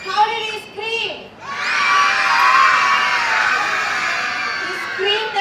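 Children's voices shout and scream together in a sustained, loud burst lasting several seconds, acting out a character's scream during a food-themed storytelling session, with an adult voice speaking briefly before and after.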